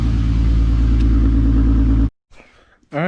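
A Volkswagen VR6 car engine idles with a loud, close, steady low rumble and then cuts off abruptly, followed by brief quiet, faint handling noises and a voice at the end.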